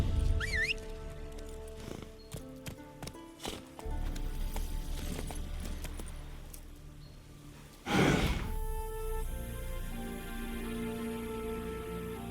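Horse in the video game The Witcher 3: Wild Hunt, heard amid game sounds: soft hoof thuds and snorting, and a louder burst near the end that sounds like a whinny or a heavy breath.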